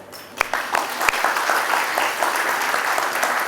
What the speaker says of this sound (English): can we give ourselves a big clap?